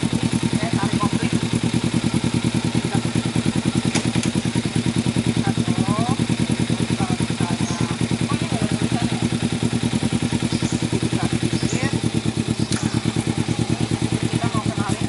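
A motorcycle engine idles loudly and steadily nearby, a rapid rhythmic putter, with people talking faintly over it.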